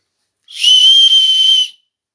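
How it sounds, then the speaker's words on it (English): A single loud, steady high-pitched whistle held for about a second, clean and alone with silence on either side. "Just a whistle."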